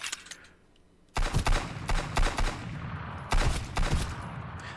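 Gunfire in the survival game Sunkenland comes in several sharp bursts of rapid shots, loud and close, separated by brief pauses after a quieter opening.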